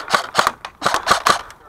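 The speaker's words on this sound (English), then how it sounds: "I'm going to shoot." Rapid gunfire from a shooting video game: six or so sharp, bright shots in quick, slightly uneven succession over under two seconds, fairly loud and close.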